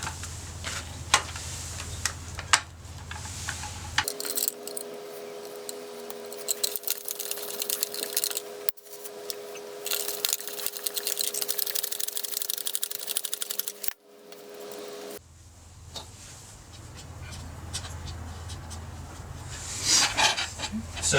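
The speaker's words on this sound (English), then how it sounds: "So now we're left to give the tyre a bit of a pump. So I'll just go about inflating it." Hand pump inflating a Schwalbe Durano road bike tyre, a steady series of close, rhythmic mechanical strokes running for about ten seconds with brief pauses, sounding fairly loud against an otherwise quiet room.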